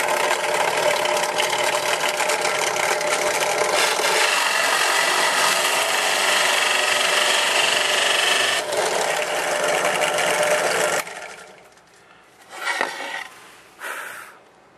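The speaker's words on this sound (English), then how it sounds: "And then just drill out the center." A drill bores steadily through the center of a part during a Philco 38-7CS radio restoration, a loud continuous grinding whir for about eleven seconds, then stopping, followed by a few brief faint scrapes.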